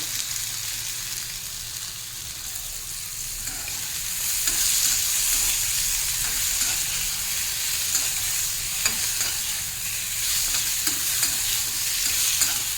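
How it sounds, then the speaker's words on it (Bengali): Ridge gourd frying down in a pan for a thin fish curry as the water cooks off, with a steady broadband sizzle and soft stirring scrapes running throughout, growing a little louder partway through. "অনেকটা ভাজা ভাজা হয়ে গেছে"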